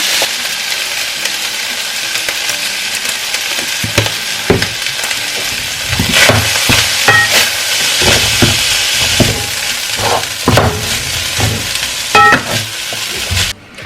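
Rice frying and being stirred in a hot pan for broccoli fried rice: a loud, close, continuous sizzle broken by repeated scraping and stirring knocks, with no talking.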